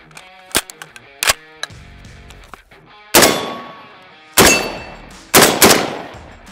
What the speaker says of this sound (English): This is the SCAR 17S in 308.